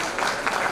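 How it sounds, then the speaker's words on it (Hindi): A short burst of enthusiastic applause from an audience clapping for Shabana ma'am, wife of Iqbal sahab, at a home-buying event; dense and steady for under a second. "इकबाल साहब की मिसेज शबाना मैम के लिए एक जोरदार ताली"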